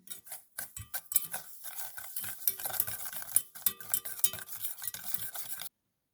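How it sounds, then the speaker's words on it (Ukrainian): A spoon scrapes and clinks around a bowl, rubbing egg yolks with sugar for a milk soufflé, in quick irregular strokes, close and fairly crisp, then stopping abruptly. "До жовтків кидаємо дві з гіркою чайні ложечки цукру і розтираємо"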